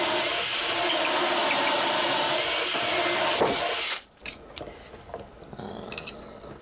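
A drill runs steadily as it bores holes in an arcade cabinet control panel, loud and close. It cuts off abruptly partway through, leaving scattered clicks and handling knocks.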